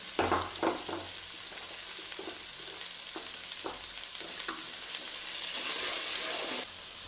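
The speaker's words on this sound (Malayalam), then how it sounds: "മൂന്ന് സവാള ചോപ്പ് ചെയ്തോടെ ചേർത്ത് കൊടുക്കണം" Chopped onions, added with small shallots, fry in a pan with a steady, faint sizzling hiss and occasional soft stirring scrapes, no talking.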